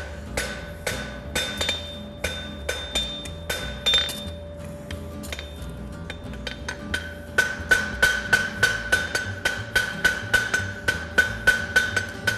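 A hammer strikes a weld on a metal bar, sharp ringing metallic clinks repeating at first irregularly, then in a quick steady rhythm, close and clear with no talk.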